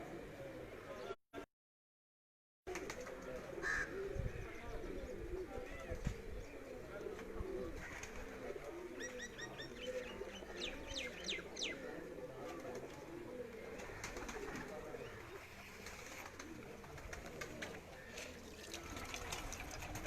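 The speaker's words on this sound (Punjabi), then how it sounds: "ਅਸੀਂ ਜੀ ਕਬੂਤਰ ਪਲਟਾਉਣ ਲੱਗੇ ਸਾਡਾ ਕਬੂਤਰ ਬੈਠਾ ਹੈ" Pigeons cooing softly and continuously, with bursts of wing flapping midway and a brief dropout near the start.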